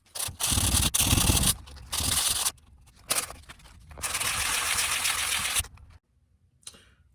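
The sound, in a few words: hand sanding wood filler with sandpaper on a sponge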